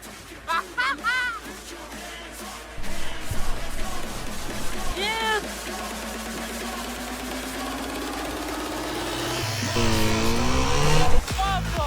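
A motorcycle revs repeatedly while stopped at a red light in city traffic, its engine note climbing in pitch toward the end, with a voice talking over the surrounding street noise.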